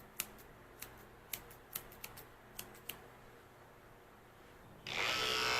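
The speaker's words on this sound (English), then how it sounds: "These are slightly curved scissors." Curved scissors snip a Havanese dog's hair in quick, crisp, irregular cuts, about a dozen close-up clicks, before a steady buzzing hum starts at the end.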